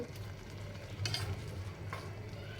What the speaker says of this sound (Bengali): এখন নুডলসটা একটু নাড়াচাড়া করে নেবো।